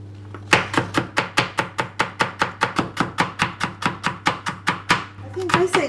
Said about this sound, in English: Cut in slice, thin slice first, and then you shredded them.